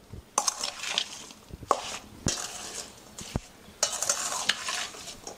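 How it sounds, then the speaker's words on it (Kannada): Lemon pieces being stirred and tossed with chilli powder and salt for a Kannada-style lemon pickle, giving repeated scraping, mixing and clinking strokes in a bowl, close and fairly loud, with no talk. "ಈಗ ನಾನು ಖಾರ ಉಪ್ಪು ಎರಡು ಚಲೋತ್ನಾಗೆ ಮಿಕ್ಸ್ ಮಾಡ್ಕೋತೀನಿ ರೀ."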